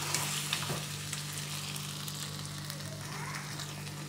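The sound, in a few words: sautéing onion, cashew and green chili paste for mutton curry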